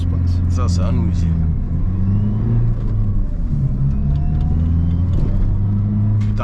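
A Renault Megane 2 RS spins its wheels under acceleration, heard from inside as a loud, continuous engine drone and rumble while people talk over it.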